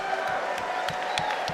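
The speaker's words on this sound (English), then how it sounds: "Round of applause for wives" Crowd at a live MMA event in Pittsburgh clapping and cheering for the fighters' wives: a steady, loud wash of applause with whoops and scattered sharp claps.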